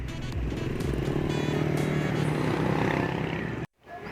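A motorcycle carries a rider along a street, its engine droning loud and steady close by, then cutting out abruptly near the end before returning.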